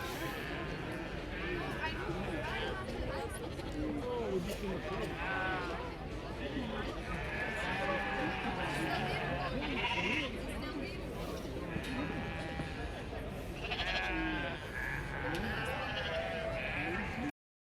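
Dutch Spotted sheep at the Royal Highland Show bleat repeatedly, with overlapping near and farther calls over a busy show-ring hum, while people talk in the background.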